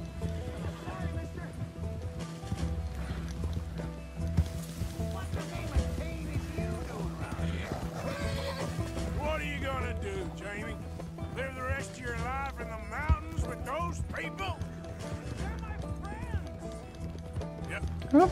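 Horses in the Red Dead Redemption 2 video game, with hoofbeats clip-clopping and neighs rising over a steady game soundtrack and ambient hum, a voice talking over parts of it.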